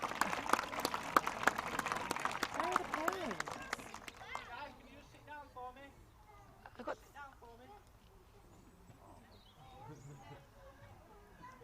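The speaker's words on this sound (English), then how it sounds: "Let's give her a nice big round of applause." Applause from a zoo audience at a sea lion show, a burst of clapping in the first few seconds that fades under a presenter's voice and ambient noise.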